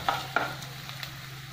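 Grated ginger and garlic frying in a pan with a low steady sizzle, broken by a few soft scraping stirs near the start.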